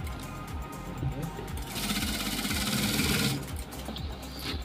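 Domestic sewing machine stitching fabric for a decorative latkan tassel, a steady rapid mechanical whir that swells for a couple of seconds amid someone speaking Hindi close by.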